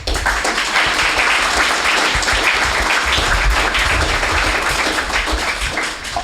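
Loud audience applause at a 10th anniversary ceremony for the Eastern Caribbean Supreme Court, a dense burst of clapping from a hall crowd that holds steady and tapers slightly at the end.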